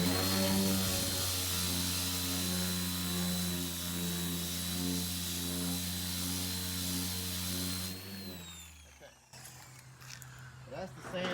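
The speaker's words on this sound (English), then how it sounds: "Let me show you guys what a sander does." An orbital sander on a car body's paint drones loudly and steadily with a buzzing hum for about eight seconds, then winds down and stops. Only quieter background noise remains after that.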